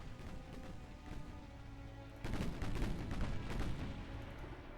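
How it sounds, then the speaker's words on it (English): Warship guns firing in the naval video game Ultimate Admiral: Dreadnoughts, a steady run of booming artillery shots that grows louder and denser partway through, with no talk. "those guns are tipper-tapping away quite happily"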